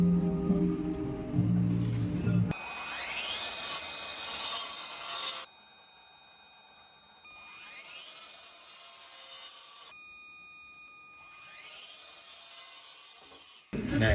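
A wooden shelf board is cut to length with a hand saw for a floating shelf. Several bursts of rasping strokes are separated by quieter pauses, and the sound is close and moderately loud with no talking.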